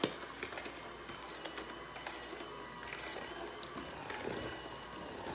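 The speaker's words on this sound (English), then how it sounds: "now you blend in this 2nd interval of dry ingredients" Dry ingredients are blended into cake batter with a rapid, steady mechanical whirring and clattering, continuous and fairly quiet, with no talking.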